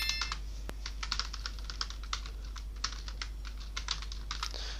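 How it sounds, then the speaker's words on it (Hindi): Fingers type on a computer keyboard, a quick irregular run of crisp close key clicks over a low steady hum, with no one speaking. "यहां से हमने क्लियर टाइप कर दिया एक बटन पे।"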